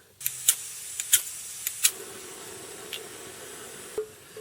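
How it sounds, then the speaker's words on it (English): A camp stove is lit for melting wax in a coffee can, with a few sharp metallic clicks and clanks, then a steady close gas hiss of the burning flame. "I'll light my stove and start melting it"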